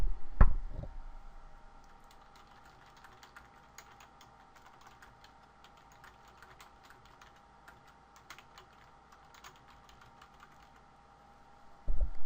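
Keys clatter faintly on a computer keyboard in quick, irregular bursts of typing, close but quiet, framed by brief louder bumps at the start and end.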